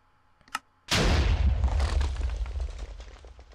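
A Minecraft TNT cannon fires with one loud, sudden explosive boom that rumbles heavily in the low end and slowly decays over several seconds, preceded by a brief small click.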